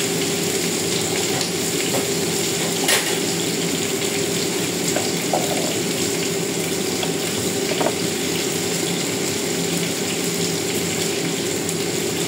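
Garlic and onion fry in a home kitchen pan, giving a steady, even sizzling hiss that holds throughout with a few small pops and clicks and no talking.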